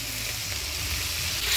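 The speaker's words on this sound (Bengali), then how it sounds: "অল্প জল দিয়ে মশলাটা ভালো করে কষা নেব।" A spice paste of coriander, cumin, ginger and chili with turmeric, salt and a splash of water fries in a pan, making a brief, close, steady sizzle with no voices.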